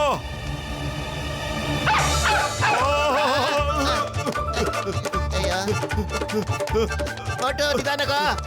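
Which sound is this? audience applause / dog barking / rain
dog barking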